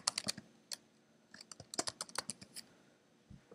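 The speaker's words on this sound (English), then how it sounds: "Now you're going to type a password. Just type in any random password." Short burst of typing on a computer keyboard while entering a password during a Windows 7 install, close, quiet clicks in uneven clusters with a soft thump at the end, no speech.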